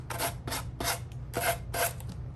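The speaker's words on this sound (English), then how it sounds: "sanding it down around the edge, and it's ripping it right off for me" Five rough, rasping strokes of sandpaper along a wooden edge, evenly spaced and close by, over a steady low hum.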